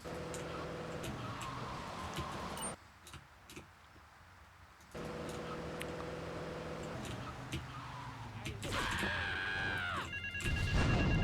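A telephone rings in a GTA game, its electronic trill rising at the end over steady car engine and traffic noise, with game music and ambient city sounds layered throughout.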